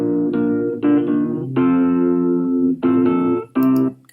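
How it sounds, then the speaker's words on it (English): A 70s-style electric piano loop from GarageBand plays a few sustained, bell-toned chords in short phrases, clear and up front with no talking. "So if we just go right here and we click on 70s electric piano, it's going to sound like this."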